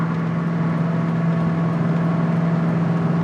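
Steady idle of a 1966 Ford Mustang Fastback after mechanical restoration, heard from inside the cabin as an even, continuous low hum with no talking.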